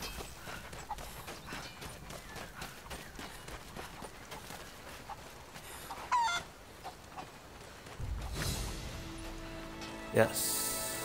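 Chicken clucking inside the video game Rise of the Tomb Raider, short irregular clucks mixed with game footsteps and ambient effects, a louder burst near the end, with someone talking over parts of it.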